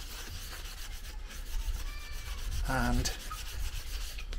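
Steady rubbing on a wooden tool handle as melted wax is worked in, a close, continuous scrubbing with a brief squeak partway through.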